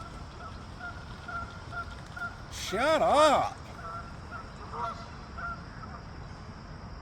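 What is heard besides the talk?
geese honking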